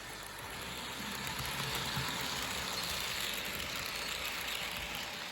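A Rivarossi Santa Fe heavyweight model train runs around a track corner, giving a steady, moderately loud mechanical rumble and whir throughout.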